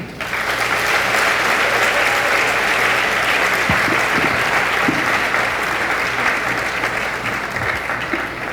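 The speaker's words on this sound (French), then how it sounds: "Un tonnerre d'applaudissements pour Rose Berline Batelli, s'il vous plaît." Thunderous applause from a conference audience fills the space, a dense, steady wash of clapping that stays loud and continuous throughout, with faint voices mixed in.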